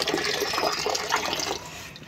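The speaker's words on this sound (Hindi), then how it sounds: "ये पानी मैंने भर दिया है" Water runs and splashes as a container is filled for watering potted plants outdoors in the morning, a steady gushing flow heard close by with no talking.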